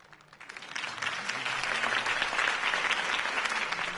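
Crowd applause swells and holds steady after a campaign speech by Harvey Dent in a Batman video game, a dense burst of clapping from a large gathering without talk.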